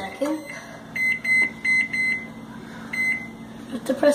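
A kitchen microwave oven gives a string of high, clipped electronic beeps in irregular bursts, clear and close, with brief speech mixed in.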